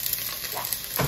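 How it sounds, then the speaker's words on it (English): Onion sautés in a pan, a brief, soft, close sizzle with a light stir. "Let this saute for a little bit until it gets translucent"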